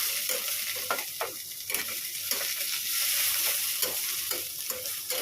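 Cabbage frying in a wok (kadai) at home, a continuous close hiss and sizzle with stirring scrapes and soft clatters throughout, steady and fairly loud with no voices.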